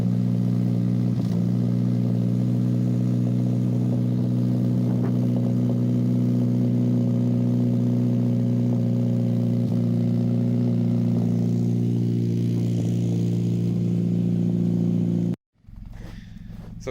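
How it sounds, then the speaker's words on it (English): Sports car engine idling while warming up in winter cold, a steady low rumbling hum held close and constant for many seconds before an abrupt cut to a quieter background. "So we got the car warmed up now."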